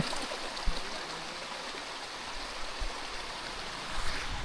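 Water pours steadily at the Andhari waterfall near Mota Khokhara, Bhavnagar, a continuous broadband rush with no voices.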